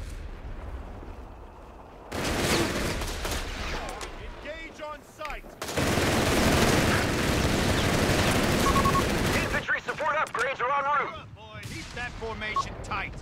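Rapid gunfire, machine-gun bursts and heavy booms from a Company of Heroes 3 multiplayer battle with US forces, loud dense volleys in long stretches broken by shorter pops, with game voice callouts heard between.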